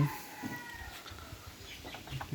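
A rooster walks nearby in a village yard beside tethered goats and drying tobacco leaves, giving a few soft, short clucks close to the listener over faint outdoor background noise.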